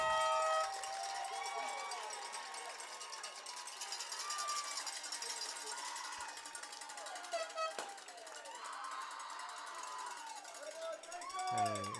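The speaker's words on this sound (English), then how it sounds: "An excited Panther crowd, a packed house here at Larry Barrett Field. Very enthusiastic crowd." A packed crowd at a high school football playoff game cheers and roars after a touchdown, a broad, sustained wash of voices with whistles, while an announcer talks over the noise.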